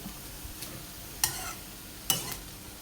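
Shallots roast in a pan as a faint, steady sizzle, broken by two sharp scraping stirs of a utensil against the pan, with no talking.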